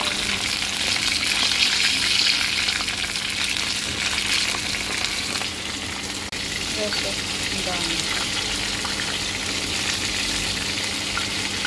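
Lumpia spring rolls frying in hot oil, with a steady, dense sizzle and crackle that runs unbroken and fairly loud throughout.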